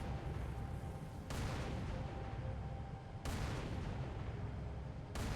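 Tank gunfire and explosions in Halo 3 while fighting Wraiths, heard as three heavy, booming blasts spaced about two seconds apart over a constant rumbling battle din, with no talking.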